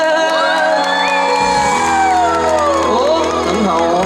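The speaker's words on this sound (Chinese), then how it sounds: "给自己掌声加尖叫声。" A concert crowd at a Mazu cultural festival in Shengang cheers, whoops and screams nonstop over ringing music, loud and dense throughout.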